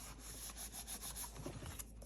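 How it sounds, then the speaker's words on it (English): Scored paper lines on a large handmade gift bag being rubbed flat, a faint, close, soft dry rubbing and swishing in short repeated strokes. "I was just rubbing those score lines down, making sure that that glue was adhering nicely"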